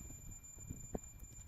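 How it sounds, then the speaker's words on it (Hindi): Multimeter continuity beeps while probing points on the circuit board of a Jio F120B phone with a SIM fault, heard as a few short, faint electronic tones in a quiet room. "कंटिन्यूटी आनी चाहिए, बीप का साउंड आना चाहिए।"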